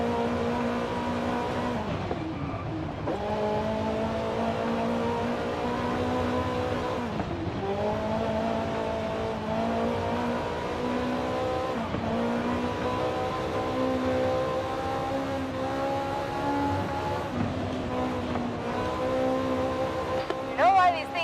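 A Ferrari engine drives in Forza Horizon 5, a steady loud harmonic drone rising through repeated gear shifts with brief dips between pulls, continuous across the whole stretch, with someone talking over parts of it.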